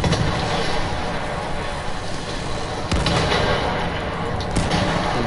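Gunfire from the video game Battlefield 1 on PS4, with sharp bursts at around three and four and a half seconds over a dense, noisy battle din that persists throughout.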